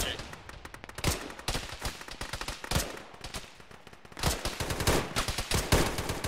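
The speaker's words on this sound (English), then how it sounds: "they're shooting from the bunker now too" Gunfire from a bunker in the Arma video game during a ShackTac jungle road fight, rapid automatic bursts and scattered single shots crackling at close to mid range, with voices talking over the firefight.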